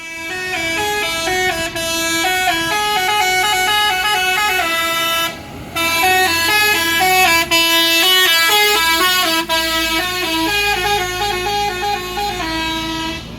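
Basuri v3 telolet horns on an intercity bus bound for Jakarta blare a loud, continuous melodic sequence of stepped tones, with two brief breaks, close and dominant over the depot background.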